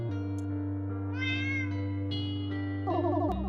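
A cat meows several times in clear, close succession, each call rising and falling, over a steady low hum with no talking.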